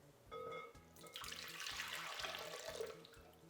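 Warm water pours from a container into a stand mixer bowl, a close, steady splashing gush lasting several seconds, with faint rhythmic thumps underneath and no talking.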